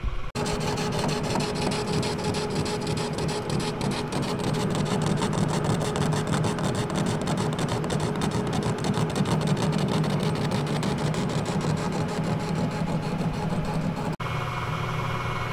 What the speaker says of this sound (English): So I'll get this side turned down